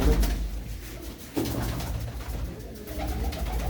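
Pigeons coo steadily in a fancier's loft, soft low throaty calls repeating close by over a dense background of more birds, with no voices.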